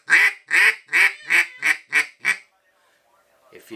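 A handmade duck call blown to imitate a duck, giving seven loud, evenly spaced nasal quacks in a descending run, then a brief quiet pause.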